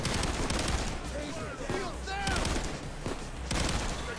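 Handheld shotguns firing in a crane-game shooter: rapid, loud blasts in quick succession with brief whistling, chirping game effects in between and a steady background rumble.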